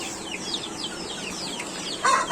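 Chickens and small chicks in a coop, with a steady stream of high chick peeps throughout and a louder hen cluck near the end, close by and without talk.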